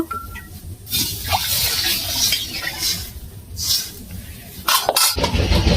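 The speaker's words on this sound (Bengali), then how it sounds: "এবার আমি জল ঢেলে দেবো, আর 1 ঘটি জল দেব।" Water is poured into a brinjal and hilsa fish curry in a pot, making a rushing, splashing pour with clatter near the end and no voices.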